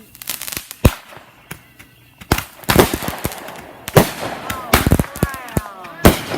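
A Spy Neo consumer firework going off outdoors. Loud, close bangs come in a quick irregular series, mixed with crackling and rising whistles, and people's voices can be heard faintly in between.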